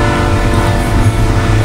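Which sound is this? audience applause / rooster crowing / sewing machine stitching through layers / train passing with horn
train passing with horn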